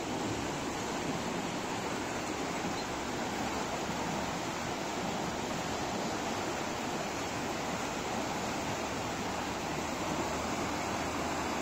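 The swollen Mezyb river churns and rushes in a continuous, dense roar, loud and steady throughout with no voices, after heavy flow carrying whole trees toward the sea.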